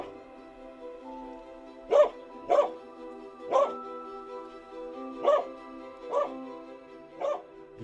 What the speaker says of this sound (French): Le chien il aboie le plus près possible de là où l'odeur est la plus importante